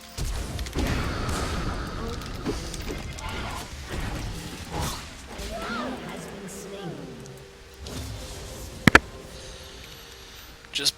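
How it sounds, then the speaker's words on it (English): Muffled thumps and rustling handling noise dominate, followed by a couple of sharp bumps against the microphone near the end, close and abrupt. "just bumped the mic, so if you're wondering what that sound was"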